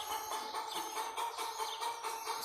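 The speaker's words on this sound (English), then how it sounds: "And that freaking bird in the background." A chicken clucks in the background near a Yamaha YZ85 dirt bike being worked on, a repeated series of moderately loud, rhythmic calls.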